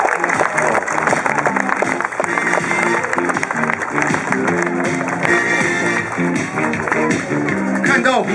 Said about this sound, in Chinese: 掌声欢迎胡市长